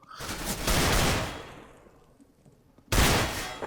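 Two loud bursts of rapid gunfire in CS:GO, the first rolling out and fading into a decaying echo, the second starting abruptly near the end.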